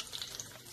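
Fish fillets frying in hot fat for crispy fried fish give a faint, brief crackling sizzle with small pops.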